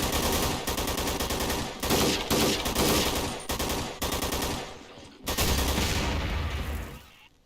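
Rapid SMG fire in a Half-Life 2 mod shooter: several loud, close bursts of automatic shots separated by brief gaps, ending with a final burst that trails off into quiet.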